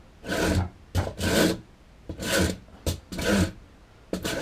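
A smooth file is drawn back and forth along a wooden mallet following the grain, giving six rhythmic, close rasping strokes, each a loud scratchy rub separated by short pauses.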